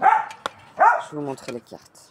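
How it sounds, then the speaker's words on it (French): A dog barks indoors in a few sharp, loud bursts, mixed with and partly under someone speaking French nearby. "Désolée pour mon chien qui aboie."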